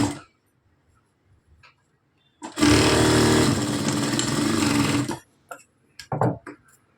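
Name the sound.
sewing machine stitching a straight seam on a blouse side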